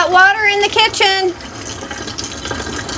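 Water runs from a kitchen faucet in an RV, a soft steady rush that continues after a person's brief talking at the start.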